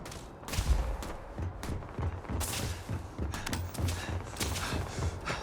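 Rapid weapon fire in the sci-fi video game Starfield, repeated sharp shots and thuds in an uneven burst pattern across the clip, fairly close and loud amid game noise.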